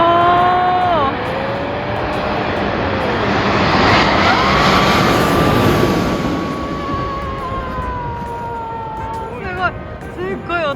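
An airplane passes low overhead near an airport, its loud jet roar swelling and fading over several seconds, while excited voices talk over the noise.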